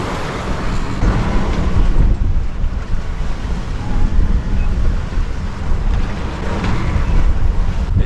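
Strong wind at sea, about 20 knots, buffets a sailing catamaran as a continuous loud roar and rush, mixed with the wash of waves against the hulls and no voices.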